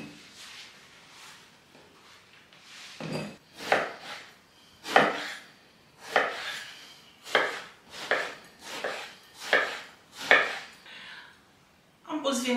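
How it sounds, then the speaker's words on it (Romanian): A knife chops eggplant into cubes on a cutting board, with about ten distinct, fairly loud thuds falling in an uneven rhythm, close by and without talk. "Tăiem vinetele cubulețe."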